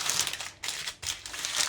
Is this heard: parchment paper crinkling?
yes